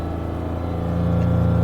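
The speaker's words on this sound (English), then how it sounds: "I'm gonna increase the engine RPMs." Toyota RAV4 engine with an ignition coil fault and misfire, idling up to higher RPM with a steady, slightly rising drone and a faint rhythmic pulsing, close and continuous with no talk.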